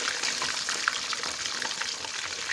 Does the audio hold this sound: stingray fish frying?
yes